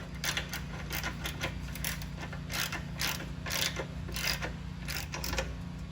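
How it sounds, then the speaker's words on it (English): Ratchet wrench with a 13 mm socket tightening engine mount nuts on a Fiat 500 Abarth, a steady run of close, rapid clicking bursts over a constant low mechanical hum. "we're going to tighten them down with a 13 millimeter socket"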